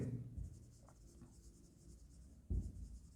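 Pen scratching on paper while a journal entry is written out, soft close strokes with a couple of louder thumps on the desk, faint and quiet throughout.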